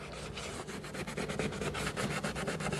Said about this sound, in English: now that I've sprayed the scuffs on the wall, I'm going to attempt to clean it